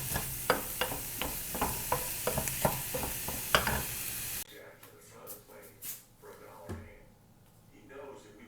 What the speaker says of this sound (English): Here's the zucchini. Stir fry it.